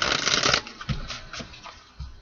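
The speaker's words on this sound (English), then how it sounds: "Let's get 2 more shuffles on this energy" Tarot cards shuffled by hand in short bursts, a dense riffle at the start followed by several softer flicks and taps, close and clear with no talking.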